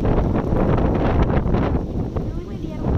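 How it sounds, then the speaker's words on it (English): Strong tropical storm gusts buffet the microphone, a dense, rushing roar that swells and dips throughout. "Really windy."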